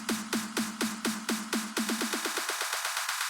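A KSHMR build-up sample for Brazilian bass/slap house: repeated tonal hits, each with a descending sweep, steady at first and then speeding up into a faster rhythmic roll.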